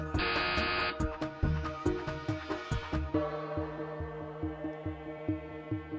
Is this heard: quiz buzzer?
yes